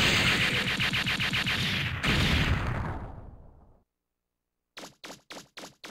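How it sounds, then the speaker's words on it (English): A big spherical explosion in Mega Man Legends roars loud and dense for about four seconds, then fades into silence. Several short, sharp bursts follow in a quick, even rhythm. "Nice spherical explosion."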